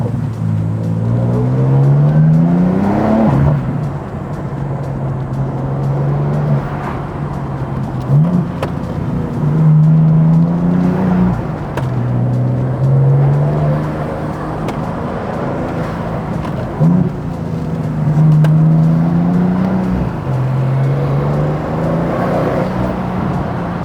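A Porsche 964 engine with an Akrapovic sports exhaust drones steadily, its pitch rising and falling with repeated revs and gear changes, close and continuous, on a winding road near Kyoto.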